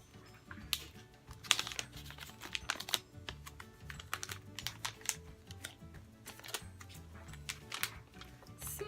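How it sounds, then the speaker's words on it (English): A sample is slipped into a plastic bag for an ancestry test kit, giving quiet, close crinkling and crackling that runs in irregular bursts throughout. "Putting my sample inside the bag"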